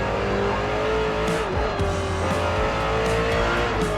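A vintage Le Mans prototype race car in Forza Motorsport roars at full throttle, its engine tone rising and dropping through gear shifts, loud and continuous with no voices.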